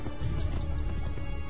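Horse hooves clip-clop in the Assassin's Creed 2 video game, a steady rapid patter of hoofbeats close up, with a faint neigh mixed into the galloping.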